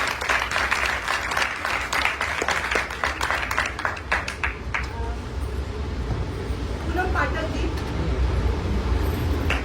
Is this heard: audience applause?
yes